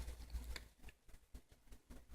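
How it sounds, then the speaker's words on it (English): Rain patters steadily and faintly in the background, a soft broadband hiss with scattered light taps and no speech. "It's raining, so don't mind the rain in the background"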